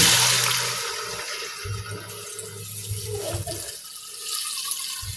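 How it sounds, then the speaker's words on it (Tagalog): Rushing water pours steadily into a cooking pot of papaya for chicken tinola, a continuous splashing flow that fades slightly, with bubbling and gurgling toward the end. "Nalagyan na po natin siya ng sabay, ng tubig."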